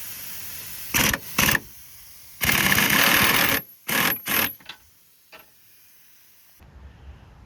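An 18mm engine mount bolt on a 2011 Ford Fusion 2.5L is loosened with a power tool, giving several loud buzzing bursts of different lengths, one longer run in the middle, then fading to quiet.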